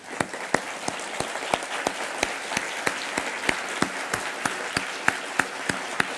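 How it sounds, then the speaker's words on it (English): A standing audience applauds at a university business case competition award ceremony in Hong Kong. Dense, steady clapping fills the room, with sharp, regularly spaced claps standing out near the microphone. No one speaks. "I would like to invite all of you to stand up to give Professor Fahumand a big round of applause."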